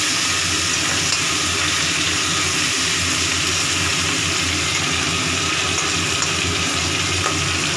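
A fish head fries in oil with a loud, steady, dense sizzle that holds unbroken, with faint bubbling underneath and no voices.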